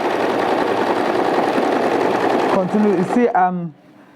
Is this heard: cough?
no